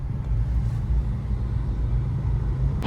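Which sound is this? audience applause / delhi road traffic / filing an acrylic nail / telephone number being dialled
delhi road traffic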